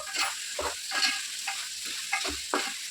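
White brinjal and tomato pieces fry in a pan while being stirred, giving a soft, steady sizzle punctuated by rhythmic scraping strokes roughly every half second.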